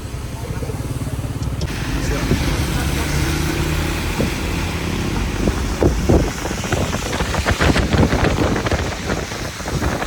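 A car engine idling and running on a wintry day, a low steady rumble mixed with wind buffeting and scattered clatter, while someone talks over it.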